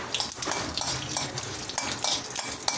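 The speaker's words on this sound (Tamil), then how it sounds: "கடுகெல்லாம் நல்லா பொரியட்டும்." Mustard seeds, urad dal and a dried red chili spatter and crackle in hot oil in a pan, giving close, continuous sizzling with scattered pops and a faint clink of utensils.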